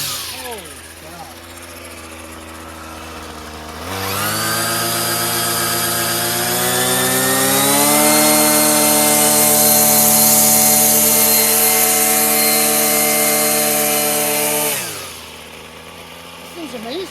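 A Ryobi gas weed trimmer, a free garbage find that has been fixed, idles, then jumps to a loud, high, buzzing whine at throttle that holds for about ten seconds before falling back to idle.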